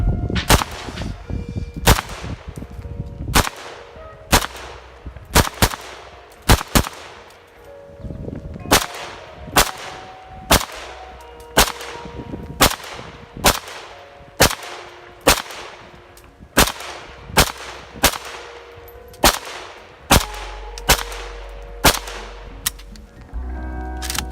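A WASR-10 AK-pattern rifle fires outdoors at clay targets, with about twenty sharp, loud shots spaced at irregular intervals and a short ringing tail after each report.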